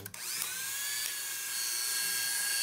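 An Oster hair clipper runs after a hinge repair, with no rattle: a steady, high-pitched electric whine that holds evenly and close up for the whole stretch, with no talking.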